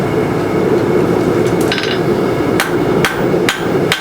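Tool steel is hammered to draw out a taper for pole lathe hook tools, a series of sharp ringing metallic strikes over a steady roaring forge, loud and close, with no talk.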